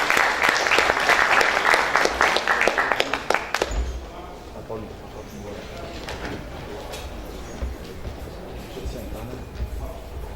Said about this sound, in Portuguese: Gostaria que compusessem a mesa e com os aplausos dos senhores